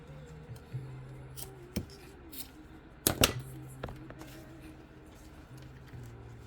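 A pair of scissors trims the loose end of a ribbon on a bag tag made with an acrylic blank and beads, giving a sharp double snip midway through, with quieter handling rustles and faint ticks around it and no talk.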